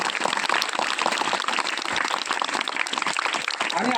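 Loud, dense applause from a crowd at a Zilla Parishad Marathi school award event in Poongaon, honouring the school chosen as a model school, sustained and even throughout with no talk over it.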